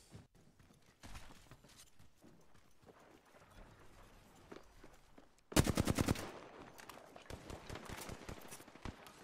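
Apex Legends gunfight: scattered faint shots early, then a sudden loud burst of rapid automatic fire followed by further sharp, rhythmic shots at moderate distance.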